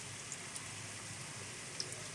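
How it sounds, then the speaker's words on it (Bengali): Soybean pakoras deep-fry in hot oil with a steady, soft hiss dotted with occasional tiny crackles and pops, quiet and continuous without any talking. "কত সুন্দর ভাজা হচ্ছে"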